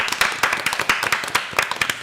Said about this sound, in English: Can we get a round of applause for Asian women?